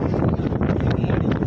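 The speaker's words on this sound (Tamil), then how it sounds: "காற்று செம்மையாக அடிக்குது." Strong wind blows across the microphone at a beach near the Chennai lighthouse, a steady loud rumbling buffet filling the whole moment with no speech.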